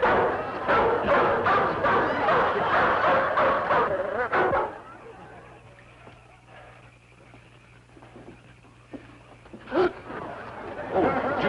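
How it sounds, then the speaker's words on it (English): A big dog barks repeatedly in a yard on a 1950s sitcom, a rapid run of close, loud barks that stops abruptly, leaving a quieter room with a low hum and one later burst of sound. "There's a big dog running loose in the yard"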